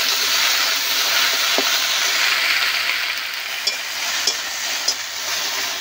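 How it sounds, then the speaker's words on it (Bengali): Okra fries in a pan with a dense, continuous sizzle and hiss, loud and close, with a few faint clicks of a utensil near the end; no one speaks. "বেশ ভালো করে ভাজতে হবে।"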